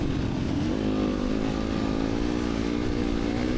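A 2020 Yamaha YZ250FX off-road motorcycle is ridden in a moto race, its engine droning loud and steady throughout, with the pitch rising as it accelerates, close to the rider.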